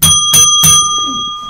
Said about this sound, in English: Alarm bells are going off.